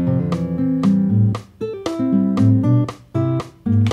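A math rock guitar riff played with syncopation on the offbeat, heard alone as clipped chord stabs separated by abrupt stops and restarts, close and clear.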